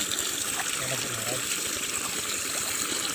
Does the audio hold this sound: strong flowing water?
yes